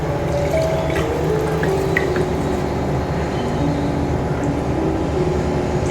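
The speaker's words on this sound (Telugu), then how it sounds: "దీంట్లో ఒక 1/2 గ్లాస్ వాటర్ వేస్తున్నానండి" Water pours steadily for several seconds into a masala for mutton curry, with a continuous liquid splashing and trickle, close by and fairly loud.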